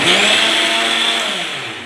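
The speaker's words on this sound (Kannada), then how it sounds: "mixie sound" A mixer grinder motor runs in a steady, loud, close whine with a grinding rasp, holding constant and easing slightly toward the end, with no voices.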